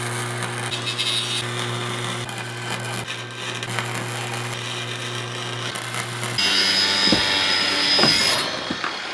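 A battery-powered welder joins steel spokes on a suspended ball-house frame, giving a steady electric hum with crackling arc noise and scattered pops, louder and harsher in its last few seconds.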